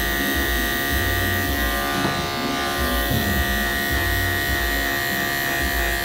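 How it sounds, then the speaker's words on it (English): Electric hair clippers fitted with a 0A detachable blade hum steadily and loudly while cutting a one-inch guideline during a military skin fade, buzzing unbroken for the whole stretch with no talk. "First, I'm gonna go in with the OA blade and we're gonna create a 1-inch guideline"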